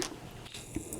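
Bites into crunchy Cheetos snacks, a few close, sharp crunching snaps over about a second, with no talking.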